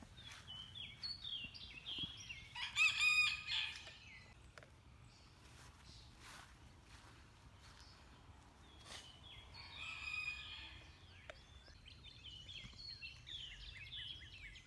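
Rooster crowing and chickens clucking near a chicken coop at a rural homestead, the crows coming in two loud bursts with softer bird calls scattered between them over a low, steady background rumble.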